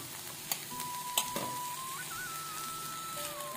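Onions and finely grated paneer sauté in a pan with a steady, close sizzle, broken by a few sharp clinks of stirring and a thin tonal whine running underneath.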